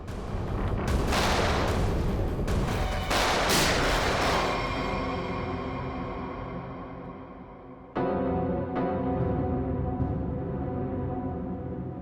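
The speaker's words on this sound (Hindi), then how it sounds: "कवर फायर दो जल्दी।" Rapid gunfire and booming blasts from a TV police shootout fill the first part, then thin out, with sharp single shots and bursts returning near the end; loud, with no talk over it.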